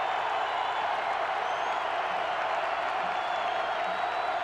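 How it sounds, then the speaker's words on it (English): Basketball arena crowd cheering an Iowa State comeback against Texas Tech, a thick unbroken roar of voices and clapping, loud and sustained from start to finish. "And this crowd rises in unison"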